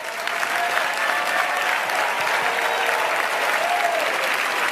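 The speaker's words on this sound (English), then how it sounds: "Look around and clap." Audience applause for executive trainers at a large gathering, a dense, steady roar of clapping from many hands that holds at an even loudness throughout with no voices rising above it.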